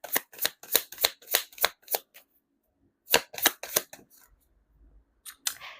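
Tarot cards are shuffled in quick rapid bursts, a run of crisp riffles followed by a pause and then a second shorter run, close and clear with a soft rustle at the end.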